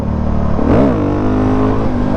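A voice imitates a Suzuki DRZ motorcycle engine revving toward a wheelie, a short rising and falling vroom swelling over a steady hum in the background.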